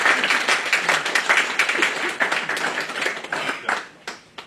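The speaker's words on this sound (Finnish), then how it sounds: "Annetaan aplodit Ruotsista asti." Audience applause at a community event in Tampere, a dense crowd clapping steadily and loudly for several seconds, then thinning toward the end.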